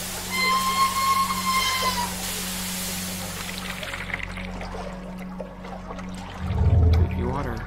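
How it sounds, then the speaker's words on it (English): Eerie trickling and pouring water inside a creepy snake museum in the video game 9 Clues: The Secret of Serpent Creek, a continuous watery wash under a low hum and faint tonal whine, swelling slightly near the end. "Creepy water sounds are creepy."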